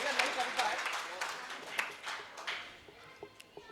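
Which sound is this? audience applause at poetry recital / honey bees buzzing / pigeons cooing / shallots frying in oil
audience applause at poetry recital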